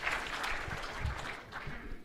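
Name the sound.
audience applause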